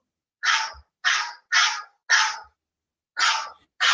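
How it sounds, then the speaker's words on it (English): A small dog barks sharply six times in quick, evenly spaced yaps, close and loud, with silence between barks. "Little Cheppy barking in the back."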